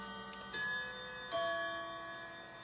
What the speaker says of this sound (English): can hear my clocks going off in the background here